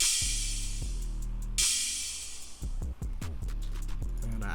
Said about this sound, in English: I added this cymbal at the beginning of the 4-bar loop.